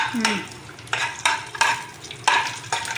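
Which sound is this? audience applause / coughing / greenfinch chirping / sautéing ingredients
sautéing ingredients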